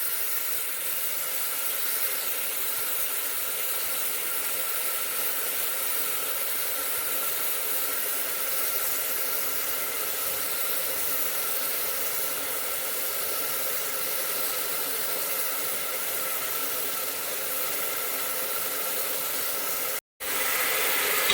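Ground ginger, garlic and shallot paste sautés in a pan for biryani, giving a steady, even sizzling hiss that holds for about twenty seconds before a brief break near the end.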